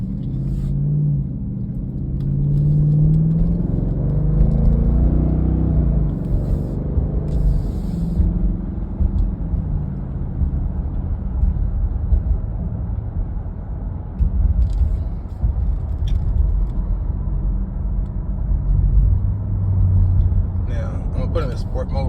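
A 2020 Dodge Durango with a modified exhaust pulls off, its engine rumbling loud and steady from inside the cabin over a long stretch, with a person talking at times.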